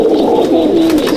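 Pigeons in a loft coo loudly and close by, low throaty warbling calls that overlap continuously with no talking.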